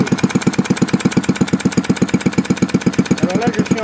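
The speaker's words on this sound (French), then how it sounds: "c'est un moteur qui est quand même assez régulier et qui fonctionne pas trop mal" A gas-powered R&B engine idles with a steady, even chugging of rapid regular pulses, close and loud, keeping a constant rhythm throughout.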